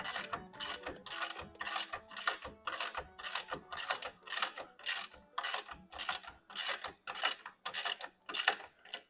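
Hand ratchet tightening a fastener on the front axle of a Peugeot 205, a steady series of about fifteen rhythmic back-and-forth clicking strokes, close and fairly quiet with no talk.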